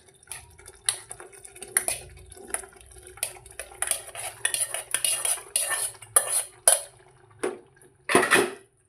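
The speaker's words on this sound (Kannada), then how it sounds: "ಅವರೆಕಾಳು ಕುದಿಸಿಟ್ಕೊಂಡಿದ್ವಲ್ಲ ಅದನ್ನು ಮಿಕ್ಸ್ ಮಾಡ್ಕೊಳ್ಳೋಣ" A spoon stirs boiled field beans into a North Karnataka village-style curry in a metal pot: repeated scraping and clanking strokes, close and uneven in rhythm, with brief quiet gaps between them.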